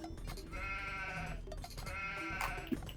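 Sheep in Age of Empires 2 bleating twice in quick succession, clear wavering calls over a low game background, with no talk.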